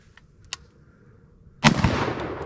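A single loud gunshot from a firearm loaded with deliberately damaged, dented test ammunition, a sharp blast with a long rolling tail after a few faint clicks.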